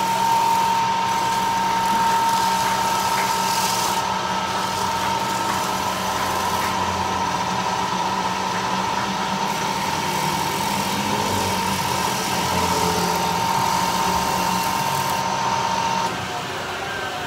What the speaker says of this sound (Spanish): Es el torno de hacer la mueca a los pitones.